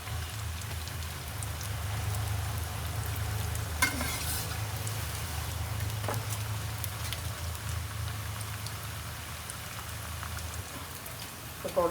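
Cauliflower and bread pakoras deep-fry in hot oil with a continuous, rain-like crackle and sizzle, close and even, broken by a few soft knocks as they are turned.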